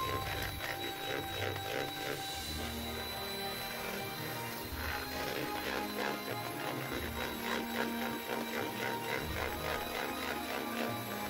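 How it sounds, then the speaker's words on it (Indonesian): An electric hand mixer beats margarine until pale and fluffy for an old-fashioned cake batter, giving a steady whirring drone with rhythmic pulsing as the beaters churn, continuous and fairly close with no talking. "mixer hingga menjadi putih mengembang"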